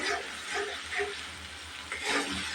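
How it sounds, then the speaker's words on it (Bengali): Masala spices frying in a pan for a chicken and potato curry, a soft, steady sizzle with gentle stirring scrapes, quiet and close. "তারপরে তো মশলাটা জাস্ট ভাজা ভাজা হবে মানে কাঁচা ভাবটা একটু চলে যাবে"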